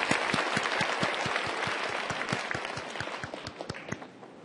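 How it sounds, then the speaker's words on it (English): A large audience at a live event applauds again after a presentation, a steady, full wash of many hands clapping with distinct close claps standing out, holding loud for over four seconds before easing slightly. "Let's applause again."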